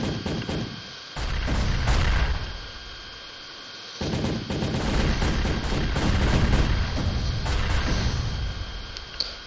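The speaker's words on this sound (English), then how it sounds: "Bombs, bro." Bombs exploding in the cartoon brawler Castle Crashers, a rapid, loud barrage of bursts and booms layered with game music, with a brief drop near the start and a steady run of blasts afterward.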